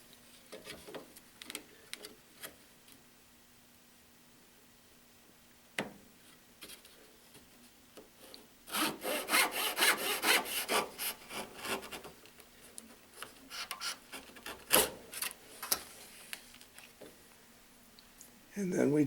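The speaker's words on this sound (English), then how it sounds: "I cut it in my little miter box." A small wooden piece is cut by hand in a little miter box, a burst of rasping saw strokes in the middle of the clip, then scattered clicks and taps of handling at close range, with no talking.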